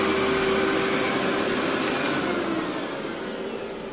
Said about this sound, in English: Let the vacuum do what it's got to do.